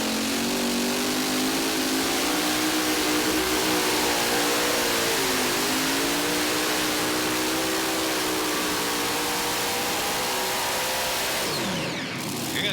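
A loud Unlimited class pulling vehicle roars through its run at a tractor and truck pull, the engine droning steadily with shifting pitch and a brief dip midway before cutting off near the end, no voices.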